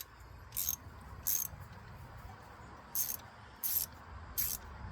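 Ratchet wrench with socket clicking in five short, evenly spaced bursts of rapid pawl ticks over a low background hum, close and fairly quiet, with no voices.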